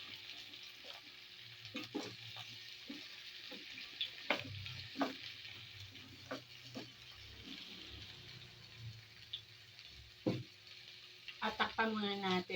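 Papaya stirred in a hot pan for ginataang papaya with malunggay, giving a soft sizzle with scattered scraping and clattering strokes of a utensil, close by and fairly quiet, with a few brief sounds near the end.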